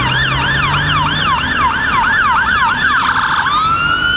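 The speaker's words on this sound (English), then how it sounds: "There's a fire engine." A fire engine's wailing siren sweeps rapidly up and down on a city street in Lincoln, loud and fairly close, then shifts to a steadier rising tone as traffic rumbles underneath.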